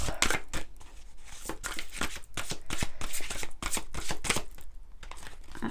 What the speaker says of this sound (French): on va prendre quelques cartes du tarot des anges